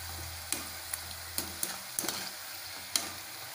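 Malabar Aaram number sweets fry in hot oil as they are turned and stirred, a quiet sizzle broken by several sharp scrapes and taps over a few seconds.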